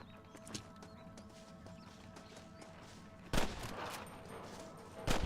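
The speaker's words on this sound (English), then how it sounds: "I can hear more gunshots." Gunfire in Red Dead Redemption 2, a scattered series of faint shots followed by a louder burst of firing, heard from a distance with background game noise.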